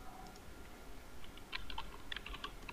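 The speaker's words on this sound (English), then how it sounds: "type text." Keystrokes on a computer keyboard entering text into a PDF form field in Adobe Acrobat Pro DC, a soft, irregular run of clicks that grows busier partway through, close and fairly quiet, with no talking.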